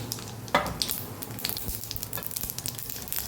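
Half a spoon of mustard seeds hits hot oil for a Kathiyawadi capsicum and potato sambharo. A sharp burst is followed by a steady, close sizzle with scattered crackling pops and no voices.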